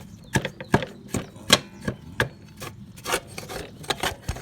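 Debris is scraped off a Troy Built TB110 lawn mower with short, gritty scrapes and clicks in an uneven rhythm, close up and moderately loud, with no talking.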